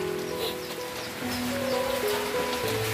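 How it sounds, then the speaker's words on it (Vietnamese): Rain falls all afternoon over guppy breeding tanks, a steady soft patter and splash of drops on surfaces and water, faint and continuous. A tonal background sound sits beneath it, and no one speaks. "Mưa cả ngày luôn bạn."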